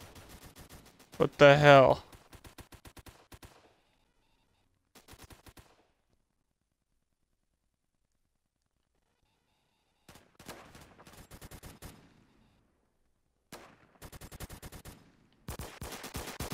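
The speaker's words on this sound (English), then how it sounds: "You're shooting a shotgun from the other side, and the shots are passing by me and almost hitting me." Shotgun blasts from a video game shooter crack in short bursts between long silent gaps, with a sharp loud burst near the start and further clusters of shots later, while someone speaks briefly.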